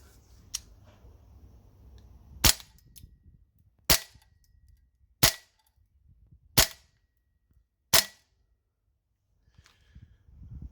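An APFG VFC Rattler gas blowback airsoft rifle with a suppressor, running green gas and 0.25 gram BBs, fires six sharp, evenly spaced cracking shots with quiet gaps between.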